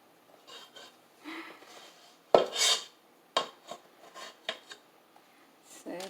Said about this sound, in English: Scraping on the bowl.